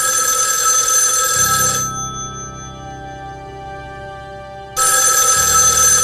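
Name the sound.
telephone ringing unanswered in a room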